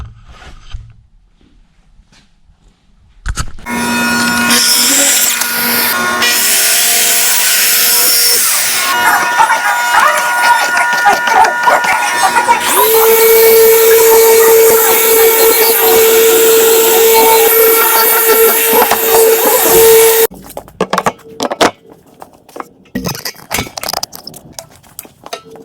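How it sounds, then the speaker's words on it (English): A power saw cuts wooden boards to fit an epoxy tray, loud and continuous for about seventeen seconds with a rising whine midway, then stops abruptly into faint workshop clatter. "we're going to cut ourselves some boards to fit in this tray"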